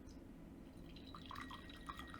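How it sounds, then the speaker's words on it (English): Bancha tea trickles and drips into a cup, a faint, brief pour with a few soft splashes over a steady low hum. "pour it right away in your cup"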